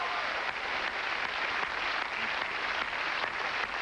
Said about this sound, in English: Now, you notice they didn't applaud as much as they did when you walked out